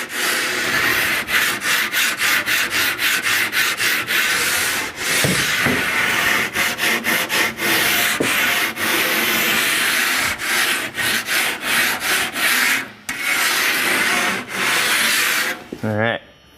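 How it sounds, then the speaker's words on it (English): A drywall rasp scraping along the cut edge of a drywall panel, steady close rhythmic rubbing strokes with short pauses, continuing for most of the stretch. "I'll take a drywall rasp and just clean up our edge so it fits tight to the wall"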